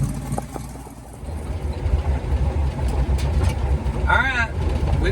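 A 289 V8 car engine idles steadily in a low, rumbling drone close by, holding an even tone for the whole stretch, with a brief higher chirp near the end.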